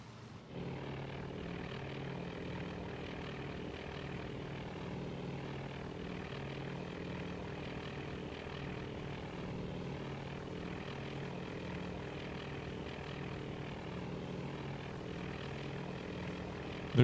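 Torpedo bomber aircraft in the video game Task Force Admiral: a steady, droning propeller engine hum, continuous and fairly faint throughout.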